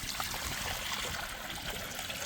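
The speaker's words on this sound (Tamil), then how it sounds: "தண்ணி ஊற்றி மரவள்ளி கிழங்கு அவிச்சுக்க போகிறோம்." Water pours in a steady, hissing trickle into a pot for boiling tapioca root (cassava) for a chicken curry, close and unbroken throughout.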